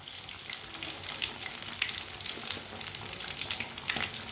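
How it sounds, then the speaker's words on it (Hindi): Fish frying in hot oil in a pan, cooked the Punjabi way, with a steady, close sizzle and crackle that carries on throughout, with no talking over it. "ये बहुत ही आसान तरीका है मच्छी फ्राई करने का।"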